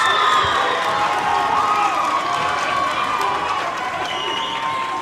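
A home crowd cheers and shouts steadily through a high-school varsity girls basketball game during a late-game free throw, with a dense, continuous roar and scattered whoops.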